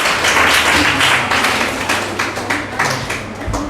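A crowd gathered for a college award ceremony claps steadily and densely in a hall, the many overlapping hand claps loud and continuous throughout with faint talk beneath.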